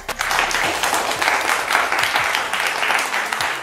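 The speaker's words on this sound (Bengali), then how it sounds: "Can I have a round of applause? একটা হাততালি পেতে পারি কি সবার কাছ থেকে?" An audience at a Saraswati Puja gathering in a store applauds steadily, a dense, loud, continuous round of many hands clapping throughout.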